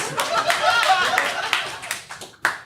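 A lone person claps a handful of times in a sparse, uneven patter, with a voice talking over the claps.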